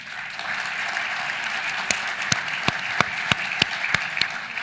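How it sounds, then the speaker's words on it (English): A room of session attendees applauds at a business program, giving a round of applause. The steady crowd clapping is moderate in level, with a few sharper, distinct claps standing out. "So give a round of applause for Paul."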